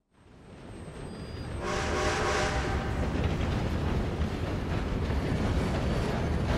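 A train in the video game Red Dead Redemption 2 rumbles steadily along, a broad continuous roar with a faint whistle tone at the start, no voices.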